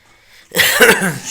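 A single harsh, close cough bursting out after a moment of near silence.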